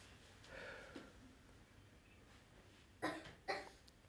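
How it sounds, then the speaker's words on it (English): Two short, faint coughs in quick succession from a small child, heard in a quiet room after a soft murmur. "Baby's coughing."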